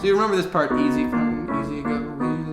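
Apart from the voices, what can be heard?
No everyday noises stand out.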